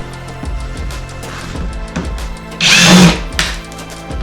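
A power drill backs screws out of a Firman WH03242 generator's side panel in short whirring bursts, with one longer loud spin near the end and small clunks of handling between.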